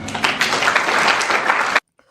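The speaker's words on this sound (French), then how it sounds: "Est-ce qu'on peut applaudir pour les parents?" Brief burst of clapping for parents at a school year-end closing ceremony, loud and close, cutting off abruptly into near silence.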